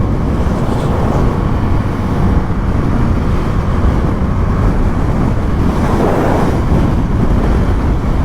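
Constant heavy wind roar buffeting the microphone while riding a 2024 Yamaha MT-07 motorcycle, loud and unbroken throughout with no speech.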